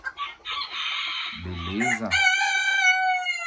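A Belgian porcelain rooster clucks low, then breaks into a loud, close crow with a long drawn-out final note, while someone speaks briefly.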